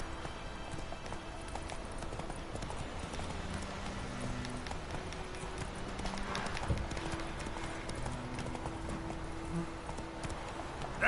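Roach, the horse in The Witcher 3, walks with steady clip-clopping hooves, close and even-paced over a faint ambient bed, with no voices.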